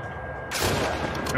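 A sudden burst of loud gunfire erupts partway through, a sharp crackling blast that sustains briefly, from the video game The Last of Us Part II, with a voice nearby.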